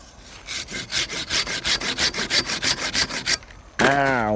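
A hand saw rasps through a teak branch in steady back-and-forth strokes, about fourteen quick passes, then stops abruptly before a brief tonal sound.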